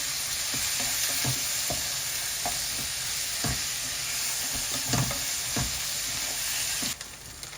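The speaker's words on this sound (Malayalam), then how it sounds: "I just add uh, two thinly sliced tomatoes" Thinly sliced tomatoes fry and sizzle in a pan, a steady hiss broken by repeated scraping knocks of stirring, close and constant until the sizzle drops off abruptly near the end.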